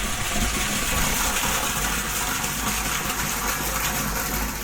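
Water gushes continuously into a tank, a steady rushing flow with a low underlying hum.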